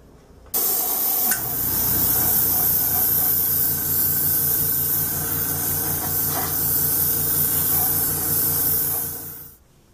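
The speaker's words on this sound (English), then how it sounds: "I'm going to give my entire model a coat of future floor wax." Steady hiss of an airbrush or spray can misting a coat of Future floor wax over a plastic model tank, starting abruptly, running continuously and close for about nine seconds, then cutting off.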